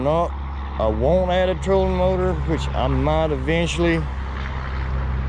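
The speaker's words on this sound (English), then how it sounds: "Sorry about the traffic going by." Traffic on a nearby main highway, a steady low rumble running beneath someone talking close up.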